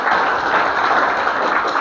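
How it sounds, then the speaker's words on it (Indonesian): Church congregation applauding during a sermon service, a steady, dense wash of clapping from many hands that holds evenly throughout. "Tepuk tangan dulu untuk teman-teman sekalian"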